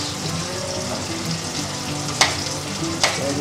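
Onions sauté in a pan for beef mechado, a dense steady sizzle close by, with two sharp clicks of a utensil against the pan near the end.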